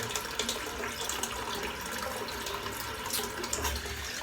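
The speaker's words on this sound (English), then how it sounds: "Just fill in the sink up" A bathroom sink fills from a running tap before a head shave, a steady close rushing and splashing of water that continues unbroken throughout.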